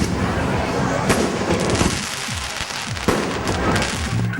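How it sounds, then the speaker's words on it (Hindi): Fireworks burst in the sky over a mass wedding celebration in Uttar Pradesh, India, a dense, loud stream of crackling pops and booms with a busy crowd murmuring beneath. "आसमान में सतरंगी आतिशबाजी"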